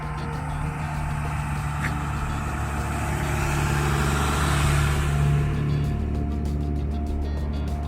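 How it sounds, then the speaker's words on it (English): A big Rasta bus drives past, its broad engine rumble steady at first, swelling to a peak about midway, then easing off, heard from nearby with no talk. "the big Rasta bus"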